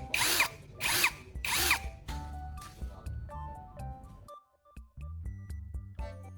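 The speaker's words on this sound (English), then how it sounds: "the drill is now working normally again" A cordless drill with a revived battery runs in several short bursts, whirring up and stopping, first loud and close and then in quieter on-off pulses.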